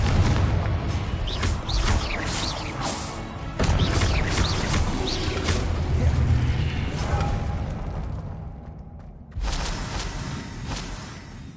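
A Confringo blasting spell in the video game Hogwarts Legacy goes off as a loud, booming crash with a whooshing burst and rumbling debris that fades out, followed by a second, sharper impact.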